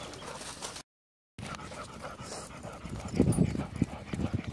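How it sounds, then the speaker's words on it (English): A dog pants and whimpers close by, quick soft breaths at first, then louder excited whines and breathy bursts toward the end. "Crazy dog."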